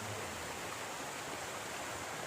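Constant rushing water, a broad even hiss of a flowing river close by, with no pauses or voices.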